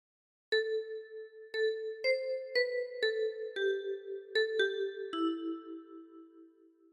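A ten-key kalimba plays a short phrase of Silent Night, about nine bright plucked notes, each ringing with a metallic shimmer, clear and close with no voices.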